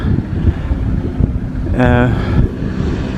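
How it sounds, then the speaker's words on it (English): A couple of motorbikes rumble past in the background during a countryside ramble, a brief rising engine whine near the middle over steady outdoor wind noise. "A couple of motorbikes just gone past that you hear in the background"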